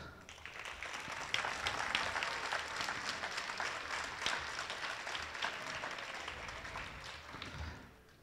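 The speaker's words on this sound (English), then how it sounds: "Let's give them a huge round of applause." A sustained burst of audience applause at a school talent show, dense and steady clapping from a sizeable crowd that carries on for several seconds before tapering slightly.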